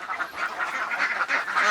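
Ducks in a poultry house quack in a dense, continuous chorus close by, with overlapping calls and no speech.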